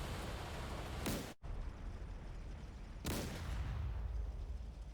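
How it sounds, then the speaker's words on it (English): Artillery and gunfire from gun emplacements in a WWII video game mod, two heavy blasts a couple of seconds apart over a constant rumbling battle din, moderately loud. "they spotted the gun emplacements, so they're opening fire"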